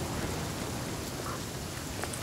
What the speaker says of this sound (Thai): เข้าไปหลบฝนก่อนดีไหมเนี่ย